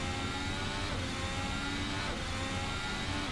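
An F1 2018 car races around the Albert Park circuit in Assetto Corsa during an Australian Grand Prix lap, its engine a dense, steady whining roar that fills the whole stretch at constant loudness.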